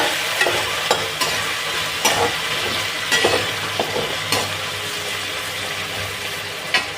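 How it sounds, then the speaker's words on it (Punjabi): Onions sizzle and fry in a pan on the stove, steady crackling broken by repeated scraping stirs of a spoon every second or so, close and loud with no voices. "ਹੁਣ ਇਹਦੇ ਵਿੱਚ ਪਾਵਾਂਗੇ ਜੀ ਆਪਾਂ ਪਿਆਜ਼ ਕਰਾਂਗੇ ਜੀ ਮਿਕਸ"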